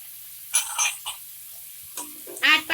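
Potato and brinjal stirred into a cauliflower pulao in a pan: a few short, close scraping and sizzling strokes separated by quiet pauses.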